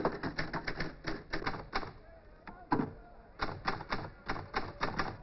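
An old mechanical typewriter with some sticking keys clacks in quick bursts of keystrokes, with pauses between runs, heard up close.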